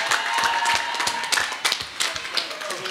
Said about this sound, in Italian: vorrei un forte applauso per il nostro magazziniere